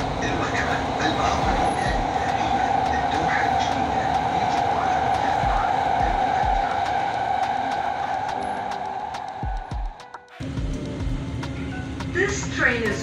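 Rumbling interior of a moving Doha Metro train in Qatar with steady rolling noise and clacks, briefly quieting near the end, while a voice speaks over it.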